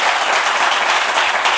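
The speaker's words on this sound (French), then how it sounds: "on applaudit très fort" An audience at a French talk show claps loudly for a guest being welcomed, a dense, steady burst of applause filling the whole moment, close and unbroken.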